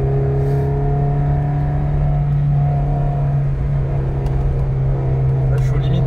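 A Suzuki Jimny III 1.3-litre 16-valve 4x4 engine drones steadily as the small off-roader picks up pace on the road, a constant loud hum with faint road noise underneath and no talk.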